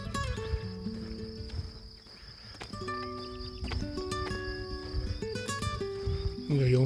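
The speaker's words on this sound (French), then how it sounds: "des grillons" Crickets chirp along the Camino de Santiago near León, among holm oaks and scattered trees, as a steady high trill that runs through the whole stretch beneath other louder tonal sounds.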